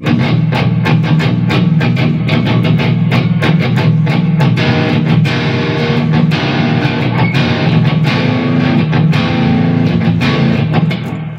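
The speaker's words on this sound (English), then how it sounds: "let's go back to just normal distortion" An 8-string electric guitar played through an amp with plain, normal distortion gives a dense, loud, continuous stream of rapid picked notes and chords with steady attacks throughout and no voices.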